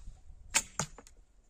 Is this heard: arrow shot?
yes